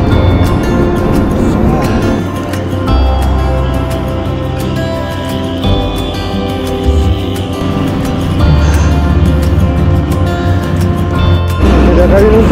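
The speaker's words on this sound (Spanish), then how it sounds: "se escuchan los camiones frenando con caja" Loud, continuous low engine roar and drone of trucks engine braking while descending a steep mountain road near Ticlio toward San Mateo, steady throughout with some fluctuation, close and dominant.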